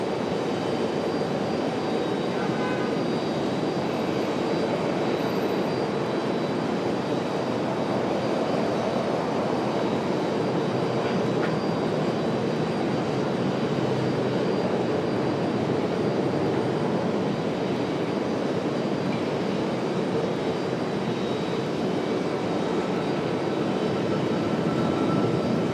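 An American Airlines Boeing 737 MAX jet moves on the ground at Raleigh-Durham airport, its engines giving a continuous broad roar that stays steady and fairly loud throughout, with no voices.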